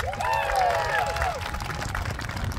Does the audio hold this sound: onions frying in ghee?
no